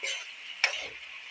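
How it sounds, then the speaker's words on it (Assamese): A steady sizzle of spice masala paste frying in a pan with small additions of water, with a single sharp tap of a utensil partway through. "অকমান পানী দি দি মছলাটো ভাজি ল'ম"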